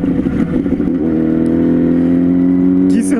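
A four-cylinder motorcycle engine revs hard, climbing into a loud sustained high-rpm howl that holds steady for a couple of seconds, close to the listener.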